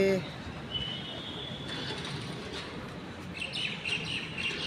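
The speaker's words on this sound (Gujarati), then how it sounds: "છે ચકલાઓ મસ્ત કિલોલ કરી રહ્યા છે" Sparrows chirp in short bright bursts against a soft outdoor background, with a faint mechanical rattle mixed in.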